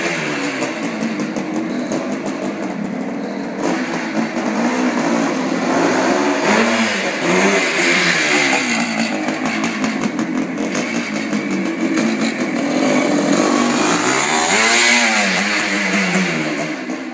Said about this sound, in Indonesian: motor ini benar-benar sebuah mesin yang gila, yang dibuat oleh Suzuki di tahun 70-an